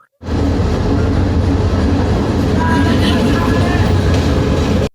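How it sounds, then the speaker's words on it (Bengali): Kishoreganj Express train pulling into Narsingdi railway station, a loud, steady rumble of rolling wheels and carriages that starts abruptly and continues unbroken throughout. "অবশেষে কিশোরগঞ্জ এক্সপ্রেস নরসিংদী রেল স্টেশনে এসে পৌঁছালো।"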